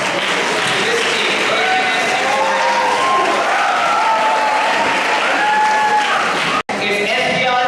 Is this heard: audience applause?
yes